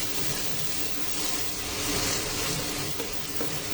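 Onions fry in mustard oil in a pan for lentil bhuna khichuri, giving a steady, close, dense sizzle that holds throughout with small bursts of crackle and no voices.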